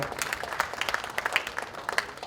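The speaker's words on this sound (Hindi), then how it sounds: "एक बार जोरदार तालियों से उनका इस्तकबाल करेंगे।" Applause at a mushaira poetry gathering and book launch in Mumbai, welcoming the evening's host; scattered, moderately loud clapping from an indoor audience, fairly sparse rather than a dense roar.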